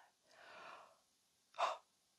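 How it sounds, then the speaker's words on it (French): A woman lets out a soft, drawn-out breathy yawn, followed a moment later by a brief, sharper exhale, both close and quiet with silence around them. "Je baille, j'adore bailler."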